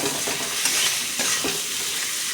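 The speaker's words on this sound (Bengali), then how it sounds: "আলুটা দিয়ে দেবো, দিয়ে এখন একটু কষাতে থাকবো।" Spices and potatoes sautéing in a pan, giving a steady bright hiss of frying with a few scraping stir strokes, fairly quiet and heard alone.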